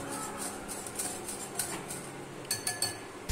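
Salt is mixed into raw chicken in a bowl, with faint clinks and light taps of a utensil against the bowl, sparse at first and then a quick cluster of knocks, quiet and close.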